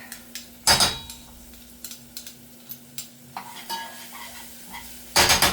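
Sazon and garlic are stirred into a sizzling pan with a spoon for Spanish-style ribs, rice and black beans. Two loud broadband scrapes of utensil on pan stand out over a steady low sizzle, with light clinks and taps in between and no talking.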